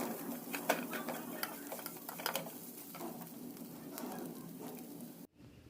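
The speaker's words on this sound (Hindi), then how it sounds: "इसे अच्छे से मिक्स करके 5 मिनट तक पका लेंगे" A spoon stirs a masala mixture cooking in a pan, giving soft scraping strokes and quiet sizzling in an irregular rhythm, close by and faint, ending with a brief clatter and a drop to near silence.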